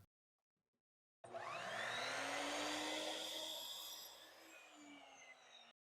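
Miter saw cutting a 22.5-degree angle into the end of a piece of 1-inch wood stock from a fence picket, a loud continuous whine that spins up abruptly, holds steady for about four seconds, then winds down and stops.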